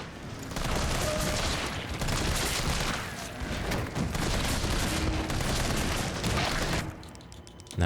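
Video game gunfire in Resident Evil 3 Remake, a sustained dense burst of rapid shots that stops abruptly near the end.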